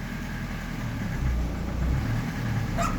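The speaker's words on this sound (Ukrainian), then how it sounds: "мотор в нагрузку пішов" Car engine on a frosty morning labouring under load with the gearbox frozen, a steady low rumble and idle-like drone holding close and continuous throughout.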